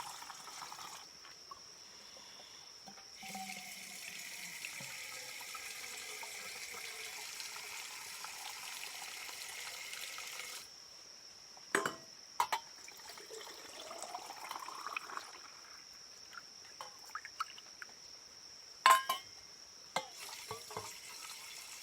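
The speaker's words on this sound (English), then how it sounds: "You can hear drops, and I can see drops." Water drops falling from leaves or light rain on a woodland walk, heard as scattered soft drips and pats against a steady background hiss, with a few louder nearby drops toward the end.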